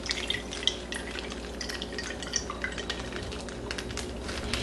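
Beef marinade from a morcon being drained into a small bowl, a steady close liquid trickle with faint dripping and no talk.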